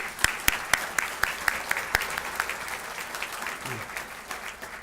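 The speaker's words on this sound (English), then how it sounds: "Let's give our sponsors a round of applause." A county State of the County audience applauds its sponsors with scattered, distinct claps that start crisp and then thin out and fade over a few seconds, heard from across a hall.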